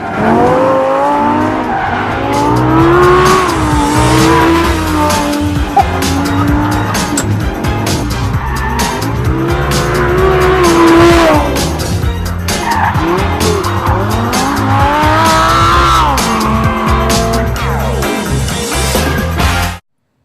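A manual-gearbox Lamborghini is driven hard, with the engine roaring loud and close as revs rise and fall and tires squeal through skids over a long continuous stretch.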